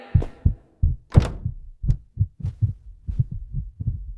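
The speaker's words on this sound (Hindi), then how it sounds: "न जाने क्यों उसका दिल धड़कने लगा।" A heartbeat sound effect in an animated story, with steady, deep double thumps repeating at a slow, even pulse and no voice over them.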